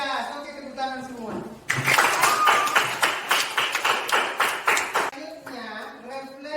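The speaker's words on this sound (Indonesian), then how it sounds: "Oke, tepuk tangan semua." Pupils in a classroom clap hands together in a lively, fairly loud burst of rhythmic claps lasting about three seconds, with a teacher's voice talking before and after.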